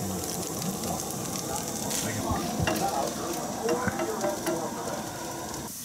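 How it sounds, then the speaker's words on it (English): Scrapple and hash browns fry in a pan at a deer camp breakfast, with a steady crackling sizzle throughout and occasional scraping and stirring clatter close by. "Got some hash browns frying up here."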